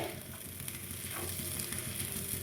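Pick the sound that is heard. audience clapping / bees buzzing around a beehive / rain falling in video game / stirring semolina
stirring semolina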